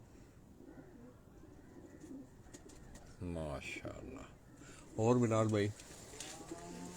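Pigeons of various breeds perched on ledges at a loft in Abbottabad coo in two short bursts, the second louder and nearer, among outdoor background noise and brief talk.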